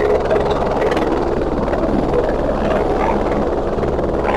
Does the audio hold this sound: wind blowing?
no